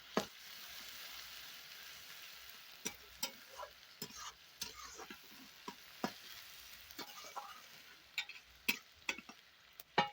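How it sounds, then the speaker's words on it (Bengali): Chopped onions fry in a hot pan with caramelised sugar, giving a soft, steady sizzle broken by scattered sharp ticks and scrapes from stirring, quiet and close. "কড়াটা গরম হয়ে গেছিলো, তো তার জন্য আমি পেঁয়াজগুলো দিয়ে দিলাম"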